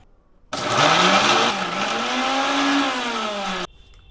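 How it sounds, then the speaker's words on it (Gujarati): A kitchen mixer grinder whirs loudly for about three seconds as it blends a chutney of green chili, garlic, ginger, lemon and a little water. The motor's pitch shifts once partway through, then the sound cuts off abruptly. "હવે આપણે આને મિક્સરમાં ફેરવી વાળશું।"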